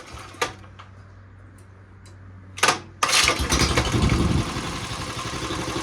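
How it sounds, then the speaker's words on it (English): A 70-year-old auction lawn mower engine with a newly fitted flywheel gives a couple of sharp pull-start clatters, then catches at about three seconds and keeps running loudly and roughly, close by. "Let's see if it'll start."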